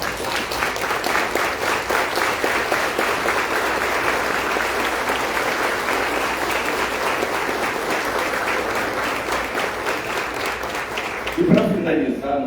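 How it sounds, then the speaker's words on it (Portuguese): A standing audience gives sustained applause honoring the 1975 champions of the first Copão da Amazônia, steady dense clapping filling the hall for about eleven seconds before a voice cuts in near the end. "fiquem de pé e dê uma salva de palmas para eles"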